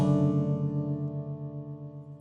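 A single fingerpicked acoustic guitar chord from a song's chorus is struck once and rings out clearly, sustaining and slowly decaying with a gentle shimmer, alone and close.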